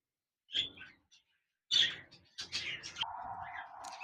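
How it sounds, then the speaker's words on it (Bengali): A pair of albino red-eye budgerigars chirp in short, close bursts separated by pauses, ending in a sustained chattering call. "এখানে দেখতে পাচ্ছেন এক জোড়া অ্যালবেনো রেড আই বাজরিকার পাখি রয়েছে"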